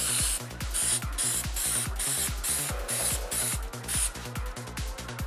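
A spray paint can hisses out a thick coat of blue in short, regular bursts, roughly a dozen quick sprays with brief gaps between them, close and fairly quiet, with no voices.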